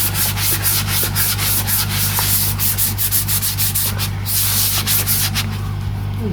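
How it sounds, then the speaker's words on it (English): Sandpaper rubs over a vintage Fender Telecaster guitar body in quick repeated strokes, a loud close scratchy rasp with a low steady hum underneath. "Very easy to work with this sandpaper."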